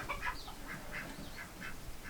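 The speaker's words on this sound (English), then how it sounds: "Oh, my birds." Free-range ducks quack in a quick series of nasal calls, several birds close by, repeating over a couple of seconds with no talk.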